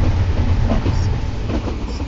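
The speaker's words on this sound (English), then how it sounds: "So here is the train" A train delivering salt in the TrainStation 2 mobile game rolls past with a continuous, loud rumbling clatter that holds steady from start to finish.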